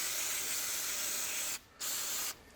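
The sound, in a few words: brake cleaner spray cleaning a loader control valve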